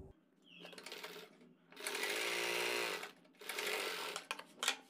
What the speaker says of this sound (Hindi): इसमें 1/4 इंच का मार्जिन लेते हुए ऊपर तक सिलाई को कंप्लीट करेंगे।